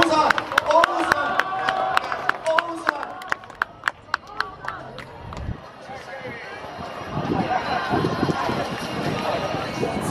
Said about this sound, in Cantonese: 我哋俾啲掌聲鼓勵歐神